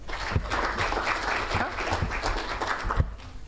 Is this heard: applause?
yes